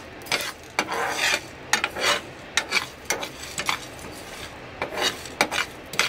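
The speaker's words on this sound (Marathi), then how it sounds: "आता आपण ना हे फक्त 2 मिनिटं थोडंसं भाजून घेऊया।" Black pepper and a piece of cinnamon dry-roasting in a pan, with irregular scraping and rattling strokes as the spices are stirred, close and fairly quiet with no talking.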